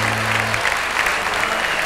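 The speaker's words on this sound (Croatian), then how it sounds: "Jedan veliki aplauz za njega!" A studio audience claps steadily for a singer during a live televised music request show, a dense, loud wash of applause that carries evenly from start to finish.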